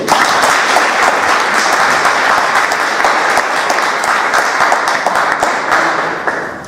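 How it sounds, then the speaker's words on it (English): Audience applause at a PyCon UK 2017 conference talk, a dense, steady wash of many hands clapping at close range that holds loud throughout and tapers slightly at the end. "Give him a big round of applause, please."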